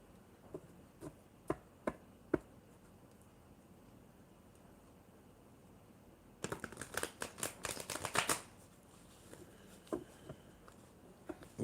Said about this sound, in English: I am just shuffling the cards.